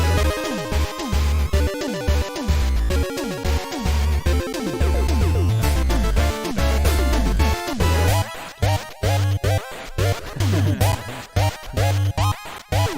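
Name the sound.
prog battle music in Final Fantasy style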